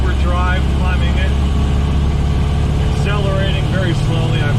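Model A Ford with a Burtz block engine climbing a hill in overdrive, a steady, heavy low drone with road noise from inside the car, loud and constant beneath a man's speech.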